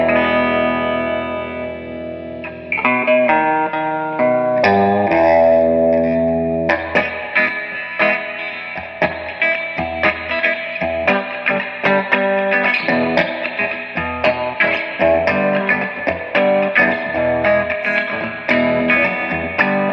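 Electric guitar played through a Marshall JTM60 amp on its clean channel with reverb, chords and single notes ringing out loud and continuous, with no talking.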